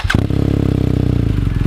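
A BMW R1200GS motorcycle fitted with an Akrapovic full exhaust system idles up close with a loud, deep, rapid, even thumping pulse and a sharp blip at the start.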